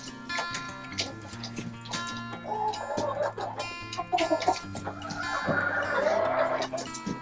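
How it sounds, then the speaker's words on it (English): Chickens, a rooster and hens, clucking and murmuring close by outdoors on a homestead, a steady overlapping chatter of several birds with occasional louder calls. "Once the rooster's out, the hens pretty much follow him."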